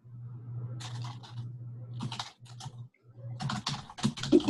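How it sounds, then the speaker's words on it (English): Keys click-clack on a computer keyboard during an online video chat, in quick bursts of close taps separated by short pauses, over a steady low hum. "I can hear you click-clacking on the keyboard."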